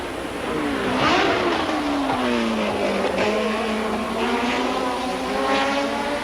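Race cars at the 1982 Trois-Rivières street course, a Trans-Am, Formula Atlantic and Can-Am event, roar past loudly. Engine pitch sweeps up and down steadily with no talk over it.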